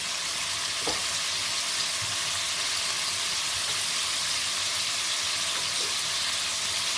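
Garlic ginger paste and lemon frying in spices for chicken karahi, giving a dense, continuous sizzle with a couple of faint stirring knocks.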